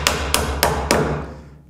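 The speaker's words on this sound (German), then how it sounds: "jeder hat einen Hammer zu Hause und ein paar Nägel" Four sharp hammer strikes driving nails into wood while building an insect hotel, evenly spaced and close, each blow ringing briefly before the next, with no talking.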